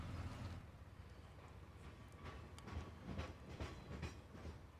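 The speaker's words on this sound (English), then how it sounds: "push R to send off the train. There she goes." Train departing in the video game Farming Simulator 17, a faint steady rumble with rhythmic clickety-clack of wheels on rails building over a few seconds, with no talking.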